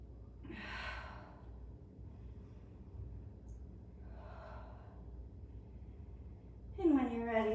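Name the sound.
slow breathing during a yoga flow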